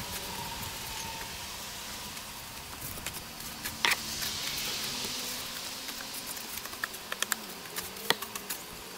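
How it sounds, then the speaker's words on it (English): Insects buzz and hum faintly outdoors near flower boxes, a steady low drone with occasional brief clicks and ticks, no talking. "The bugs are out."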